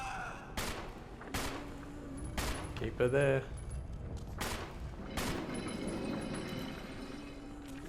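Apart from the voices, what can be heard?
gunfire from a video game, Resident Evil HD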